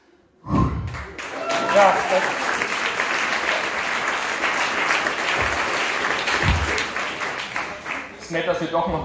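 An audience at a stand-up comedy show bursts into sustained applause that swells and holds steady for several seconds, with clapping dense and close.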